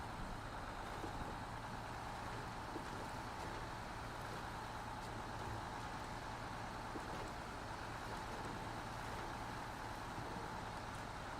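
A truck engine driving in SnowRunner, a steady low droning rumble with a constant hum, unchanging and fairly faint for the whole stretch.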